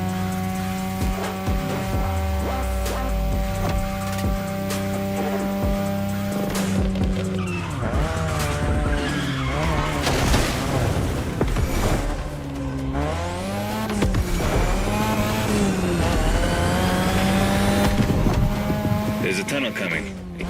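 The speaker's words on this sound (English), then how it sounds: "your ride is a 3rd Gen 2002 Mazda RX-7. Lightweight, compact, a sick rotary engine" 2002 third-generation Mazda RX-7 with a rotary engine, racing in The Crew: a loud, sustained engine drone that rises and falls through gear changes, with tire squeal and someone talking over it.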